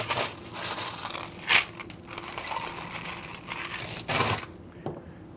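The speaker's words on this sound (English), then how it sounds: "what we want to do is we want to add our ice" Ice cubes are dropped into a mojito glass, producing clattering and rattling crunches with a sharp clink near the start and another later.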